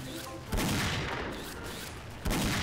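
AWP sniper rifle fire in Counter-Strike, two heavy booming shots about two seconds apart over steady in-game background noise.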